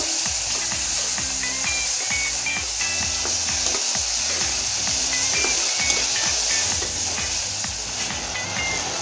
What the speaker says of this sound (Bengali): এবার নেড়ে নেব।